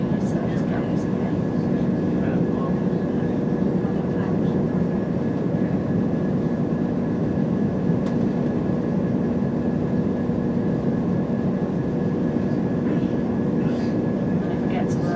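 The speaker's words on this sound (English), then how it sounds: "We're now departing Shifnal." Steady interior rumble of a train pulling away from Shifnal station, a continuous low drone of wheels and motors close around the listener, with a faint voice murmuring underneath.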